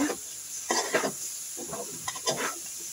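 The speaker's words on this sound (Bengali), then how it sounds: "এরপরে দিয়ে দিলাম আমার কেটে রাখা ফুলকপি, আলু, এগুলো দিয়ে আমি ভালোভাবে নেড়েচেড়ে একটু কষিয়ে নিব।" Cut cauliflower and potatoes frying with spice mix in a pan are stirred in several short scraping bursts over a soft background sizzle, fairly quiet and close.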